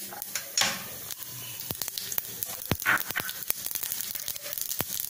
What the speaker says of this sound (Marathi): आता मोहरी घालते